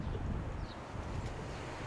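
Gusty wind buffets the microphone with a low, continuous rumble and rustle, fairly quiet and steady over the short stretch.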